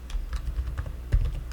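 Rapid keystrokes on a computer keyboard while typing JavaScript code, a steady patter of soft close clicks over a low background hum.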